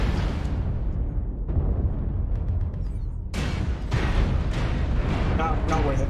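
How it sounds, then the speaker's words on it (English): Missile explosions in the mech combat game MechWarrior Online, heavy rumbling booms and sharp blasts that keep hitting over a continuous roar, with players talking over them. "Where are the missiles coming from?"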